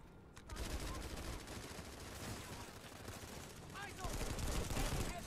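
Gunfire in the Planetside 2 shooter game, in dense rapid bursts that fill the whole stretch at moderate loudness amid battle noise.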